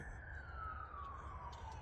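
An emergency vehicle siren passes outside, a faint high wail sliding slowly downward beneath low rumbling traffic noise in the distance.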